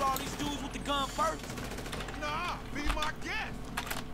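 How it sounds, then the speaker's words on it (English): Gunfire in a GTA 5 Online shootout against a crowd of enemies, with quick bursts of shots mixed with game sounds while a player talks over the action. "you mind if I fucking shoot all these dudes with the gun first?"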